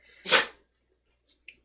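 A single sharp sneeze bursts out near the mic, followed by quiet and a couple of faint small sounds.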